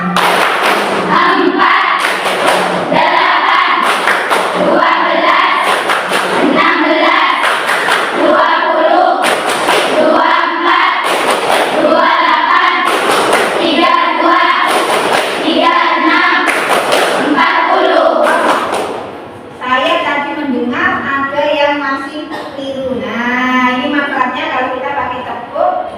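A classroom group claps in a steady, even rhythm, loud and close, while voices chant a counting song of multiples of four; the claps stop near the end and the singing carries on alone.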